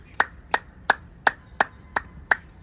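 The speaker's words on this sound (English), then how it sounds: "So start clapping slowly." Seven slow, evenly spaced sharp hand claps with a short gap between each, close and fairly loud, struck deliberately as an acupressure exercise to stimulate the palms.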